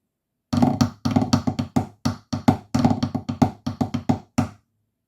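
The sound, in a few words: drumming first and second sections of Illawalla together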